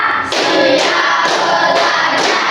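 Schoolchildren clap in time during a counted class clapping routine, making repeated loud group bursts about half a second apart, with voices blended in before the sound settles.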